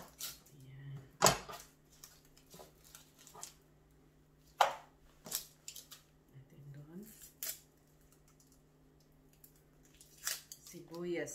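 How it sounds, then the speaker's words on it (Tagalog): An onion being sliced on a cutting board while cooking pork sinigang, giving a few sharp, separate knife taps spread out under a person talking. "Sibuyas na pag iyong ginagayat ay nakakaiyak."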